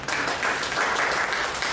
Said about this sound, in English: I want you to clap.